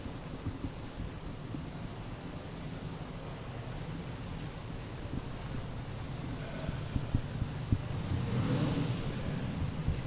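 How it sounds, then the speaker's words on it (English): A 1992 TVR Griffith with a 4-litre V8 runs steadily at a classic car auction, a low, continuous rumble that swells slightly toward the end amid open-air background noise. "the V8 sounds lovely"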